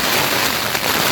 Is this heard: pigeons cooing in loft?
no